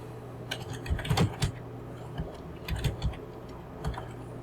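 Keys tapped on a computer keyboard to enter text in software, irregular clusters of close clicks and clacks with brief gaps between bursts, heard alone without speech.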